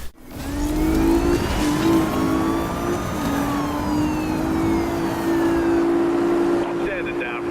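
Marussia B2 supercar engine in the Need for Speed Rivals racing game, a loud, steady high-pitched humming whine that rises and holds under acceleration for several seconds, with faint siren-like tones and voices in the background.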